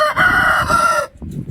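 A rooster of the Shamo or Aseel fighting breed crows once, loud and close, a sustained harmonic call lasting about a second before it breaks off, followed by faint low background noise.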